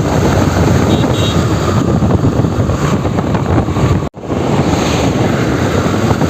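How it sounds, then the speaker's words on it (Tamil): A Honda Shine 125 BS6 OBD2 2025 motorcycle cruising on a highway, a steady engine drone heavily mixed with loud wind rush across the whole stretch, with one brief dropout near the end. "ஸோ வண்டி பார்த்திங்கன்னா இப்போது ஹைவேஸில் ஓட்டிகிட்ருக்கேன்."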